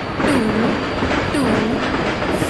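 Train arriving at a platform in Indian Train Simulator, with a rumbling rail roll and repeated curving wheel squeals, loud and close over a steady background of track noise.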